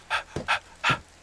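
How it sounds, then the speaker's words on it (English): A Medieval Dynasty character breathes heavily, three loud, close, breathy pants in quick succession with short gaps, alone with no talking. "The heavy breathing."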